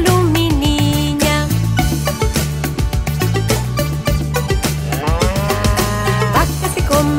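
Cows moo repeatedly in a Spanish-language children's song, the lowing calls sitting over a bright, steady rhythmic backing of bass, percussion and melody with no speech.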